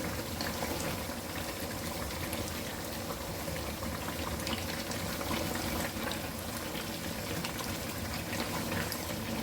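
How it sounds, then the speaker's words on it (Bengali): Chicken roast gravy simmering in a pan gives a steady, soft bubbling and hissing that runs evenly throughout, with no voices over it. "ঝোলটাও অনেকটাই টেনে গেছে একটু নেড়ে দিচ্ছি"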